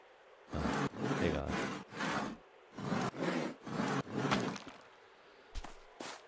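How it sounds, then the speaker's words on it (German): Boards being sawn from wood in the farming game Farmers Life: six or seven rough rasping saw strokes in quick bursts, fairly close and loud, with short gaps between them and a couple of brief knocks near the end. "Wenn man sägt, dann sägt man durchgängig und nicht hier"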